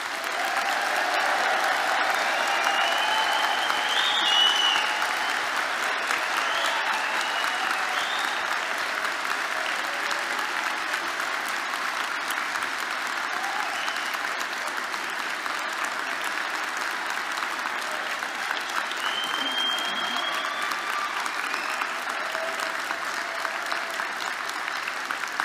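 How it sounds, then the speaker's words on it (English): Long, sustained applause from a large crowd at a university degree ceremony in Belfast, steady and fairly loud throughout with no speech over it. "give this crowd of wonderful people another huge round of applause"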